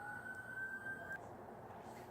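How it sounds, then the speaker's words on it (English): A faint siren holds a steady high wail for about a second, then cuts off, leaving a low background hum. "Sirens, folks, my apologies."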